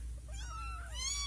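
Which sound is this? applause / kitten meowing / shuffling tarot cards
kitten meowing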